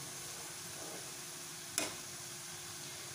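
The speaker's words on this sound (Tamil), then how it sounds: "இதுக்கப்புறம் கிளறி விட்டுட்டே இருங்க" Potato fry sizzles steadily in a pan, a close, even hiss throughout, with one sharp scrape or clink of stirring partway through.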